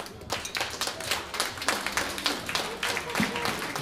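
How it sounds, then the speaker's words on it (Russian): Audience at a jazz concert claps steadily, a dense patter of many hands applauding without a break for the whole stretch. "Ваши аплодисменты."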